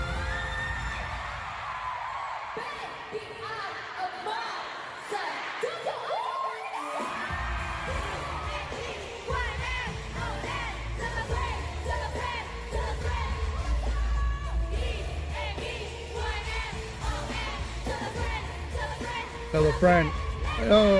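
A crowd at a fanmeet in Tokyo cheers and whoops steadily throughout, a dense continuous roar with loud shrieks peaking near the end, mixed with music.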